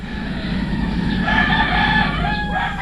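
A rooster crows loudly in a chicken coop amid other chickens clucking nearby, over a steady background hum.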